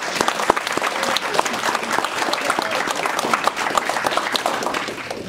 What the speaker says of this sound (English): let's give another round of applause to our honorees